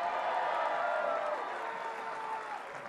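Tennis crowd applauding and cheering for a player, a steady wash of clapping and voices at moderate distance, fading slightly toward the end.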